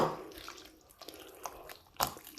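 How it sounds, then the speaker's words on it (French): Water is poured into thick semolina crêpe batter for baghrir, giving a few soft, close drips and splashes over a quiet background with no talking. "donc il faut rajouter de l'eau"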